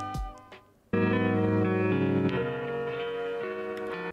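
Dense harmonic music with a filter effect sweeping in, applied in After Effects; a brief quiet opening gives way abruptly to a loud, sustained tonal passage with steady ticking accents.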